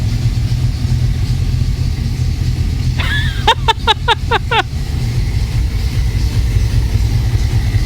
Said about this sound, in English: I just hooked this up, pumped the gas a couple times, and it fired right up